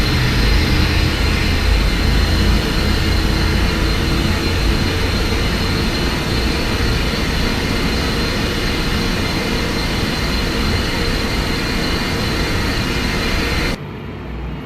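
Steady, loud jet engine roar of a Lufthansa A321 airliner in a flight simulator game, a continuous broadband drone that holds evenly for about fourteen seconds before dropping abruptly in level near the end.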